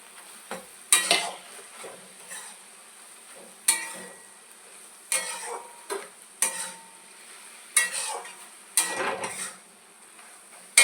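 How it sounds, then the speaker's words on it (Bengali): Black and white mustard paste being stirred into softened Malabar spinach (pui shak) greens in a pan, with repeated scraping stirs and a light sizzle between strokes, close and clear with no talking. "এবারে আমি সর্ষে বাটাটা দিয়ে দেবো। কালো সর্ষে বাটা আর সাদা সর্ষে বাটা।"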